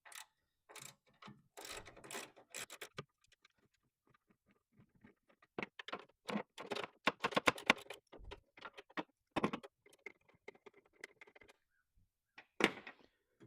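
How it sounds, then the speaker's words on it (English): A ratchet wrench with a 10mm socket works fasteners loose on a 2016-2023 Toyota Tacoma tail light. Quick bursts of close, quiet clicking ratchet strokes come in clusters separated by brief pauses. "So we'll go ahead and knock these off with a 10mm."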